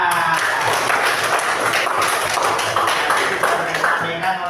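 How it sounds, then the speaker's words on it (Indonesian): A classroom of students applauds together, a dense steady patter of many hands clapping that fills the room for several seconds without a break. "Oke, tepuk tangan dulu."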